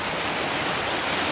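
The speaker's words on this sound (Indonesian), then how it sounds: "Ada air terjun kayak gitu." A small cascade of water at a roadside rest area pours in a steady, dense rush of broadband noise, close and constant throughout, with no voices over it.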